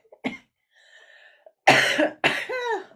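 Smoker's coughing: a short cough, a faint pause, then two loud harsh coughs in quick succession, close and with no talking.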